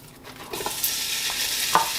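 Bacon frying in a pan for mushroom and bacon fusilli, a steady sizzle that grows louder once the bacon goes in, with a few scrapes and clicks as it is stirred.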